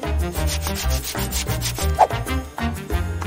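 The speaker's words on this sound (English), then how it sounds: "sand down its edge with a piece of sandpaper" Sandpaper rubs back and forth against the broken edge of a plastic toy giraffe, a loud, close, rhythmic scraping in repeated short strokes with no talking.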